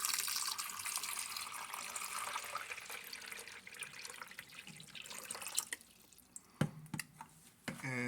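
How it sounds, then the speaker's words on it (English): Water pours steadily into the reservoir of a Mainstays 12-cup drip coffee maker, a continuous close splashing stream that thins out near the end into a few separate splashes and drips. "First thing you're going to do is you want to pour 4 cups of water."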